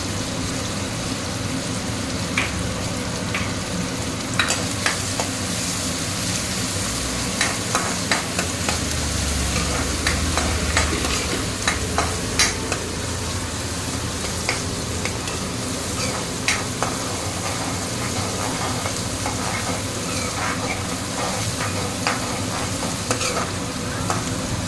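Green chillies cut in halves frying in a pan for mosram curry, stirred continuously with steady close sizzling and frequent scraping clicks of the spoon throughout.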